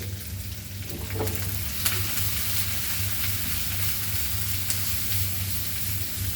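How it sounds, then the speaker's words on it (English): Pork frying with curry leaves in a pan for Goan pork chilli fry, a steady close sizzle with crackles and spattering pops, a low hum beneath, no voices. "Fry this nicely. So here it goes."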